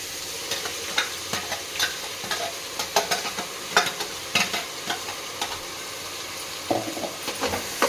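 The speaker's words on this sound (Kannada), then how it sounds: "ರುಬ್ಬಿರೋದು ಹಾಕಿ ಹಸಿ ವಾಸನೆ ಹೋಗೋವರೆಗೂ ಹುರ್ಕೋಬೇಕು." Vegetables frying in oil for a vegetable pulao as a ground paste is stirred in, with steady sizzling under a run of rhythmic scraping stirs close by.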